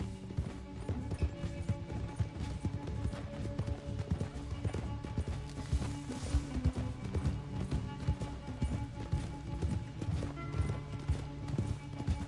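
Hooves of a galloping horse during a race in the video game Red Dead Redemption 2, fast rhythmic clip-clop thudding close and steady over a low rumbling game backdrop, with no voices for twelve seconds.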